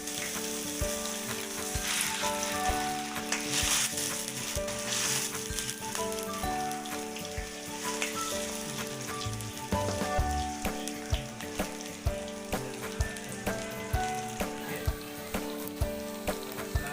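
Tofu frying in hot oil gives a steady, dense sizzle and crackle that runs the whole time, with tonal background music underneath.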